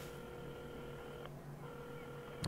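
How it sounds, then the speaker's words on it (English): A telephone being dialed in the video game Assemble With Care, a steady tonal dialing signal that breaks off briefly midway and then resumes, ending with a short click. "at the counter, Carmen had started dialing the phone"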